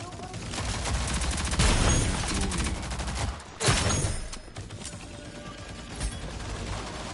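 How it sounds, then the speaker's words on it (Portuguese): Gunfire in the shooter video game Rogue Company, rapid bursts of automatic shots crackling loudly with a brief pause mid-way, then scattered shots trailing off, with a voice faintly underneath. "Era um tiro"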